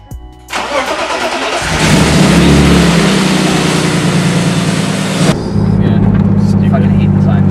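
A BMW E36 with an M50/S50 engine cranks over, catches and settles into a steady, loud idle close by, with a brief higher rev partway through before the running note continues.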